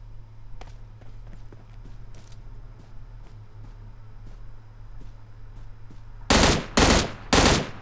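Three loud, short bursts of automatic gunfire in the mobile game PUBG Mobile, coming after several seconds of quiet background ambience with faint scattered taps.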